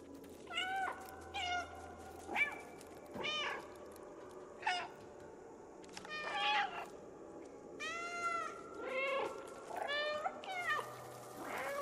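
A cat in the video game Stray meows repeatedly in short, separate calls with gaps between them, fairly faint over a quiet ambient game background.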